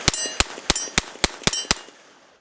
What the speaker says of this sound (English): let's go ahead and pop off these last couple rounds